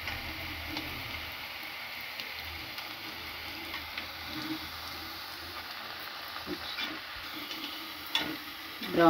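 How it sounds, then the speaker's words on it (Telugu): Cornflour-coated potato pieces deep fry in hot oil with a steady low hiss and faint crackle throughout, soft and even. A small clatter of a utensil comes near the end. "ఆయిల్లో డీప్ ఫ్రై చేసుకోవాలి."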